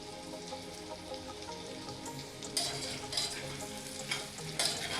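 Brain curry being stirred in a frying pan: steady sizzling and frying with repeated scraping strokes of a spoon, close and continuous, with no talking.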